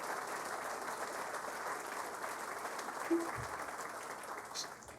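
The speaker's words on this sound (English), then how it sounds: "certainly these people deserve a round of applause for sure for what they've come up with" Applause from an audience at the groundbreaking ceremony for the Kalamazoo Event Center, honoring the designers: a steady, fairly distant wash of clapping that holds evenly for about five seconds, with a faint voice mixed in.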